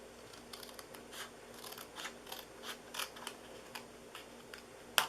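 Scissors cutting card stock for a handmade swing fold card, a quiet series of short snips and crisp clicks in a steady rhythm, close up with no talking.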